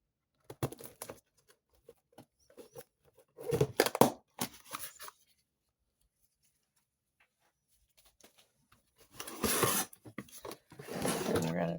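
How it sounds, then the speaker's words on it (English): Knife cutting open a cardboard box, a few scratchy tearing slits in short bursts separated by quiet gaps, close by, with someone talking in between. "we're going to get our little knife out we took out of there. Just going to cut this"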